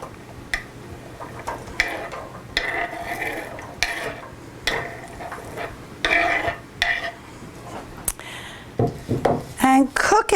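Chopped meatloaf ingredients tipped into a pan to cook, giving irregular clatters and scrapes of utensils against cookware at close range, with a person talking over the kitchen sounds.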